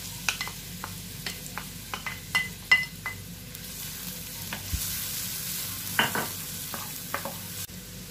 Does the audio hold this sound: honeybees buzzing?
no